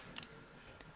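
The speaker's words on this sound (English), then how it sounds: "Just need to click that." A computer mouse clicking an OK button during a modding tutorial, a quick faint double click followed by one softer click, close and alone.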